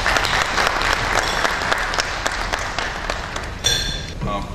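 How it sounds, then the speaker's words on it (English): Conference audience at a Nigerian Stock Exchange bond trading event applauds steadily, a dense, fairly loud wash of many hands clapping throughout, with a brief tone and a voice near the end. "A round of applause, please."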